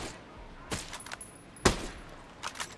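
Gunfire in the tactical shooter video game Ghost Recon Breakpoint: several sharp, scattered shots at irregular intervals, one especially loud crack in the middle, over a low steady game background.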